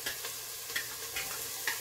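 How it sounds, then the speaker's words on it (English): Three garlic cloves sizzle in a frying pan, a steady bright crackling hiss with a few soft stirring scrapes, close and fairly quiet. "Now I'm going to go in with my garlic."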